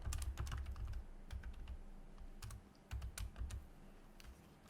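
Keys clatter steadily on a computer keyboard as a div tag is typed, with quick irregular bursts of clicks recorded close and quiet.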